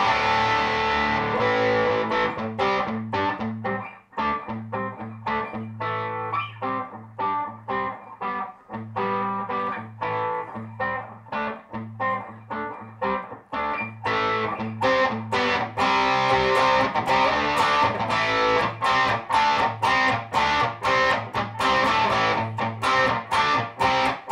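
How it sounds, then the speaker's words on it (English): Electric guitar played through a Carvin V3M amp at low drive, with mild crunchy distortion on strummed chords and single notes in a steady rhythm, close and fairly loud. "Let's have a listen to the kind of range of this distortion here"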